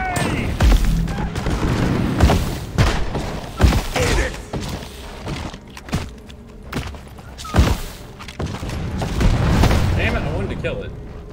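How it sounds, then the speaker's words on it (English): A series of explosions from a cluster grenade in a shooter game, several heavy booms and thuds spread unevenly over several seconds, loud and close, with voices talking between blasts. "Cluster grenade!"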